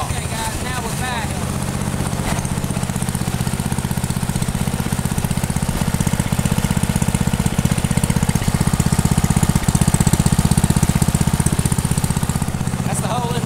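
A John Deere engine with a holed muffler runs steadily nearby, a loud continuous rattling drone with a rapid rough pulse throughout the whole stretch.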